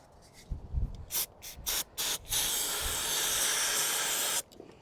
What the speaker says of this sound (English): Seems like spraying it with ether helps.